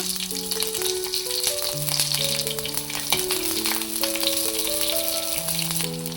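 Shallots sizzle and crackle in hot coconut oil with popped mustard seeds in a pan, for a Kerala-style fish head curry. The frying hiss is steady and continuous under background music.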